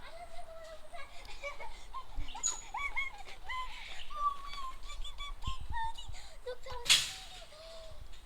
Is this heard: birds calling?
yes